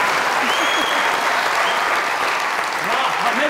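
A studio audience on a comedy talk show claps in loud, dense, continuous applause that holds steady from start to finish.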